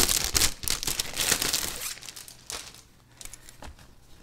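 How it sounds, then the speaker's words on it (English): Crinkly plastic packaging is handled and pulled open to unwrap a cactus print zippered case, loud and busy crackling at first, then softer intermittent rustles, with no talking. "So let's take it out of the packaging."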